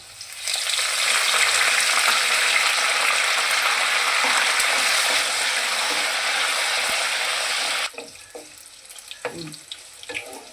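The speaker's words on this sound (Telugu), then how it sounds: "వెల్లుల్లి కొంచెం దోరగా వేగాక ఎండుమిర్చి, కొంచెం వేగాక" Garlic, dried red chillies and curry leaves frying in hot oil as a tempering for an instant cauliflower pickle. A loud, steady sizzle runs for about eight seconds, then drops to quieter crackles and faint kitchen clatter.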